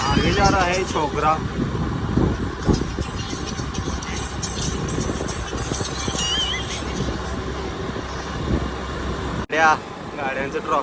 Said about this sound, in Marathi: गाड्यांचं ट्रॉफिक आहे शेवट रे.